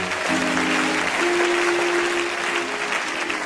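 A church congregation applauds during worship: dense, steady clapping runs the whole time at a fairly loud level, with a held musical tone sounding underneath.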